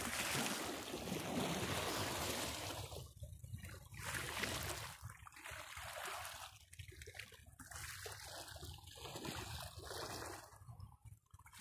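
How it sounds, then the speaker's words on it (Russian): Sea waves wash onto the shore with a broad, continuous hiss and rush, swelling and receding in irregular surges, fairly close and with no voices. "какое у нас море, как оно у нас шумит"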